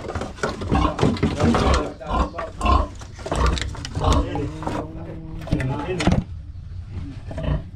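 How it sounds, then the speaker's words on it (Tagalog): A pig grunts and squeals loudly up close, several rough bursts overlapping with excited talking nearby. "Buti hindi kinakagat yung baboy na po."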